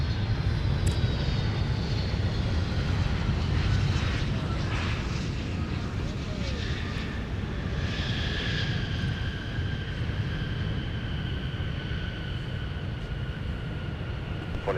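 A Delta airliner arriving from Los Angeles lands at Minneapolis–St. Paul airport with a steady, loud engine roar that holds throughout and rising whining tones layered over the rumble.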